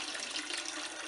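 Low wines poured from a heavy 40–50 pound jug into a pot on a kitchen stove, a steady, broad liquid rush that keeps an even level throughout, close and alone with no talk.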